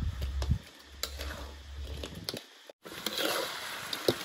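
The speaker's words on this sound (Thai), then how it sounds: "เอาปลาลงแล้วเราก็จะผัดคั่วครับให้ตัวน้ำราดเนี่ยมันซึมเข้าไปในตัวปลาทอดของเรา" Fried fish being stir-fried in a pan with poured sauce and kaffir lime leaves, outdoors on a windy day, with soft sizzling and scraping stirs, a few sharp utensil knocks, and wind noise throughout.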